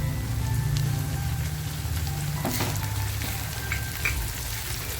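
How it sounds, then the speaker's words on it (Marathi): Chopped tomatoes hit browned onions in a hot pan for dried surmai fish chutney, a loud continuous sizzle with a brief burst of crackle midway, no talking. "जो टॅमॅटो कापून घेतला आहे तो टॅमॅटो टाकते"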